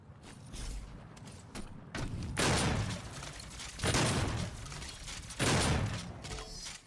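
Bursts of automatic gunfire from the Doom closed beta shooter game, three loud sustained volleys separated by short pauses, with lighter mechanical clicks between them.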